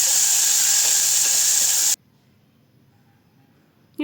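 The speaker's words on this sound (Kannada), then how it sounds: "ಕಟ್ ಮಾಡಿರುವಂಥ ಟೊಮೆಟೊ ಹಾಕ್ಕೊಳ್ಳಿ. ಅದು ಚೆನ್ನಾಗಿ ಬಾಡಿಸ್ಕೊಳ್ಳಿ." Chopped tomatoes hit hot oil in a pan with a loud, steady sizzle and hiss for about two seconds, then it drops off abruptly into near silence before resuming faintly at the end.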